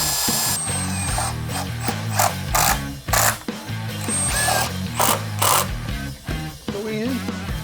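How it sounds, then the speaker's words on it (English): A drill drives 3-inch Tapcon screws into a cinder block wall, its motor whirring loudly in bursts with pauses and pitch changes as each screw goes in. "attach our sleepers permanently to this cinder block wall with these 3-inch Tapcons"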